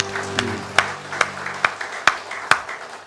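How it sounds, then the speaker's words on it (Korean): Church congregation applause, heard as loud, sharp claps in a steady even rhythm, about two per second, over a soft sustained tone that fades early on. "하나님의 영광의 박수 올려드리겠습니다"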